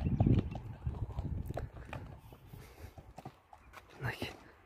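Hooves of a four-year-old horse clip-clop faintly as it is walked, soft irregular footfalls with scattered thuds and a brief snort near the end.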